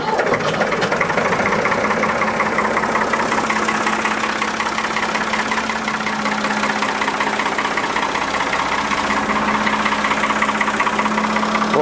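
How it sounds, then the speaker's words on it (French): A backhoe loader's engine runs steadily just after an oil change, a close, even mid-pitched idle with a faint rhythmic knock and no talking over it. "ça n'a absolument plus du tout le même bruit. On a l'impression que le moteur tourne, je sais pas, comme sur un coussin"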